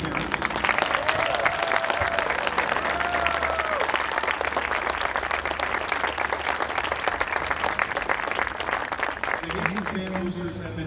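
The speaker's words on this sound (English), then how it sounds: "let's give you a round of applause" A crowd at a high school marching band show claps loudly and continuously for the senior parents, a dense, sustained roar of applause with scattered voices and cheers mixed in.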